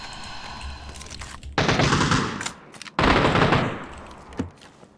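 Bursts of video game gunfire aimed at the player, two loud, dense volleys of rapid shots, each about a second long, with quieter scattered shots and a low hum in the gaps.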